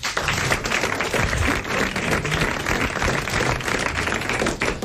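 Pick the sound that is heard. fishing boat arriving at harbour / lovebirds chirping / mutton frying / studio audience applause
studio audience applause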